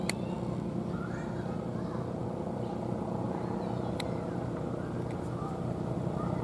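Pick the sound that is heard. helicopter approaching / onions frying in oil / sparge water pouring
helicopter approaching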